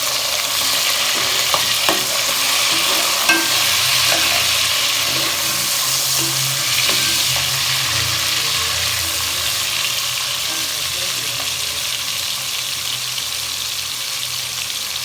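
Steady sizzling and crackling of fresh tomatoes frying with ginger-garlic paste in a hot pan, continuous and close, with faint stirring clinks and no voices.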